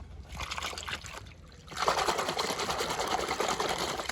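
Shampoo water splashing and pouring over pigeons as they are washed, a steady close rush of liquid that swells louder and denser after the first couple of seconds.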